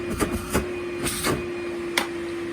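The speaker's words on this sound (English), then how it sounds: "this machine is 6 years old, which is relatively old for a battery powered vacuum cleaner" A six-year-old Henry cordless battery vacuum cleaner runs on high power, giving a steady close motor whine with a few brief bursts of louder airflow rising over it. No voices are heard.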